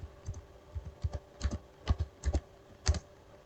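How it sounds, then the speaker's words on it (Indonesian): Computer keyboard keys typed in short bursts while entering a terminal command in a network setup, the clicks close and fairly soft with brief pauses between groups, no voices. "Lalu kita ketikkan sudo client"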